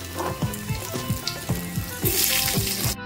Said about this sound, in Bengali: ওই মাছ ভাজার তেলেই ডুমো ডুমো করে আমি আলু কেটে রেখেছিলাম, সেইগুলোকে আমি ভেজে নেব নুন হলুদ দিয়ে।